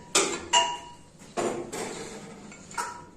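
An old cylinder block being fitted onto a Bajaj Dominar 400 engine in a workshop: a few sharp, close metallic clanks and knocks, separated by quieter scraping and handling of metal parts.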